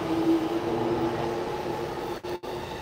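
Steady rumble inside a train in Japan with a constant low hum, briefly interrupted near the end by two sharp dips as the car jolts or passes a gap.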